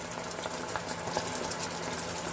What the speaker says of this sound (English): It'll continue to bubble and boil like this for a couple of minutes afterwards